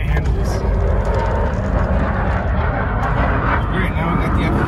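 An F-35 fighter jet flies overhead with a loud, continuous broadband roar that lasts the whole time, and a person talks over it.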